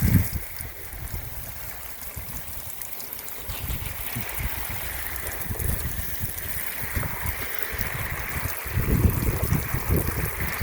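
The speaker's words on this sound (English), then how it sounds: "I'm just gonna lighten up the water flow a little bit. Break it up into the biggest fan I can" A garden hose set to a wide fan spray waters plants. A steady, moderate hiss of falling water carries soft patters and runs continuously.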